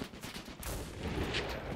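Gunfire in the WWII shooter Enlisted: a burst of rifle and machine-gun shots cracks out amid a constant battlefield din, fairly loud and close, with no voices over it.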